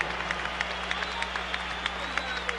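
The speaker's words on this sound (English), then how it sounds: "let's have a round of applause for these two heavyweights" An arena crowd at a heavyweight boxing match in Atlantic City applauds after twelve rounds, a steady wash of clapping under a ring announcer talking over a steady hum.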